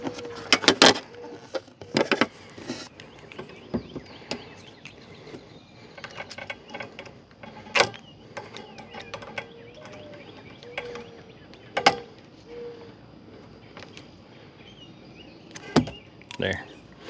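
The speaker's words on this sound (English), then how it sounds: "I'm going to go ahead and pull this nut down just a little bit tighter." A screwdriver tightens a nut on a Scrubblade windshield wiper blade adapter, giving sparse close clicks, scrapes and small metallic knocks spread irregularly across the stretch.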